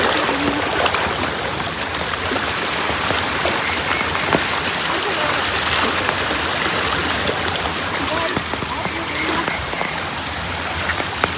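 A small river in a Nepali village rushes and splashes steadily as it is crossed on foot, a dense continuous wash of water close by with scattered sharper drips and splashes throughout.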